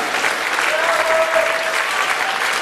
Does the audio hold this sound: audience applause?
yes